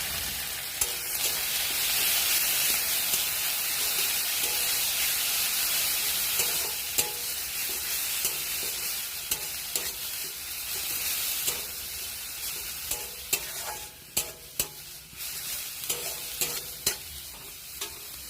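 Onion paste and garlic fry with cumin in hot oil for egg curry, a loud continuous sizzle with steady stirring and sharper scraping knocks as the spoon works the pan.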